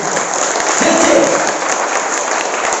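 A seminar crowd claps steadily throughout, a dense, close wash of applause with a brief voice rising in the middle.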